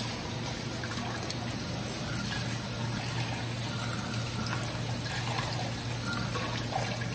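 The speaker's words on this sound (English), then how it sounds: "we're going to wash the quinoa over here" Cold tap water runs steadily over quinoa being rinsed in a kitchen, a constant close hiss and trickle with no pauses and no voices.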